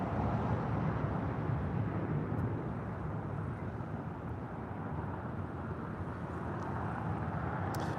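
A Caleta Air Boeing 747-400 freighter takes off, heard as a steady, loud, broadband jet roar that holds for the whole stretch with no voices over it.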